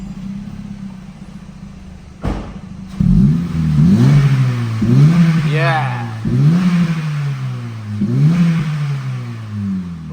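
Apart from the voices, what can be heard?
Honda Civic 1.8 revving with 70mm Tegiwa exhaust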